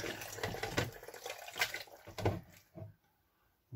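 Water runs from a kitchen tap while chicken is being prepared, a steady broadband rush with some clattering that fades out near the end, leaving quiet.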